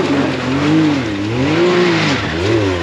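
A side-by-side UTV revs hard with its wheels spinning on a dirt trail. The loud engine rises and falls in pitch through several throttle surges, heard up close and alone.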